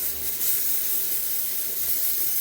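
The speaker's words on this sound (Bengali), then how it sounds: "এই যে এখন আমার সিটি করতে শুরু হয়েছে" A pressure cooker with chicken inside whistles, a steady and fairly loud rushing hiss of steam that holds constant throughout, with no talking.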